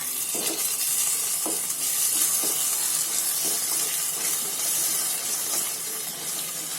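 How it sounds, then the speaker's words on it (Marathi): Schezwan chilli paste simmers and sizzles in a pot, giving a constant close hiss broken by soft clinks and scrapes of stirring at irregular intervals. No one speaks. "एकदम मस्त त्याला उकळी आली बघा"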